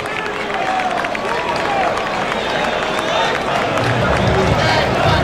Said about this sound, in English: And with that, cue the crowd.